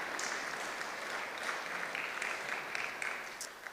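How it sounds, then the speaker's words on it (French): An audience at a cultural season inauguration in Hirson claps for volunteers, fairly quiet and steady, with a few sharper claps standing out near the end. "On peut les applaudir aussi."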